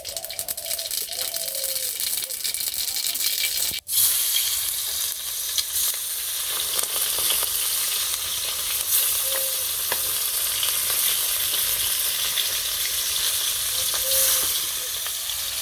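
Mustard seeds sizzle and crackle in hot oil in a wok, a dense, steady, close hiss with a rattling edge and one sharp knock early on, with no talking.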